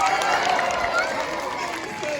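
A crowd at a sea lion show cheers and claps in a steady, dense wash of noise, with voices mixed into the din.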